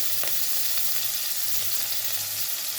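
Garlic ginger paste frying in about two tablespoons of hot oil, giving a steady, close sizzle with a faint stir near the start and no voices.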